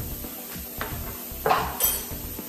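Aloe vera mixture being transferred into a glass jar, giving a few clinks and knocks of glass and utensil at close range with short scraping contacts, no voices.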